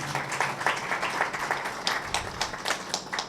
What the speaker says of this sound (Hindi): इन सारे प्रस्तारों के लिए तालियां बजाएं